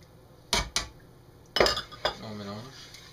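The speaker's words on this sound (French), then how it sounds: "On continue toujours de mélanger avec la cuillère en bois." A wooden spoon works through melted butter, eggs and sugar in a bowl, giving a few sharp knocks and scrapes against the bowl spaced across the moment, with a short voice sound near the end.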